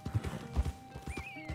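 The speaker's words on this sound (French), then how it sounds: "Va voir qu'on change de cheval." Hooves in the video game Red Dead Redemption 2 Online clip-clop in a quick galloping rhythm with an occasional whinny, set against soft background music.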